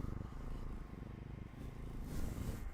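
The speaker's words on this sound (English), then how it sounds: "It's a cat." A cat purring close by: a low, rhythmic rumble that pulses steadily for a few seconds, fairly soft and heard on its own.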